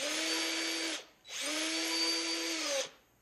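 Power drill boring a hole into a Razer mouse scroll wheel, two sustained whining bursts with a brief pause between, close and loud with no talking.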